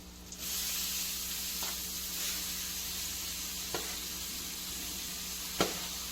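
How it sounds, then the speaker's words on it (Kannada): Boiled cabbage tipped into a hot pan for a local-style cabbage fry crackles into a steady, close sizzle that holds for several seconds, with a few soft stirring clicks and no talking. "ಇವಾಗ ನೋಡಿ, ಬೇಯಿಸ್ಕೊಂಡಿರುವಂತಹ ಎಲೆಕೋಸನ್ನು ಇದರಲ್ಲಿ ಹಾಕ್ಕೊತಾ ಇದ್ದೀನಿ"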